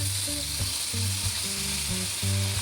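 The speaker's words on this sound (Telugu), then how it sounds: "టమాటా ముక్కలు కూడా వేసేసి లో ఫ్లేమ్లో ఉంచి అలాగ మగ్ మగ్గనివ్వాలండి" Tomato pieces fry over a low flame in a pan for a hotel-style chutney made without coconut, giving a steady, even sizzle with a low droning hum underneath throughout.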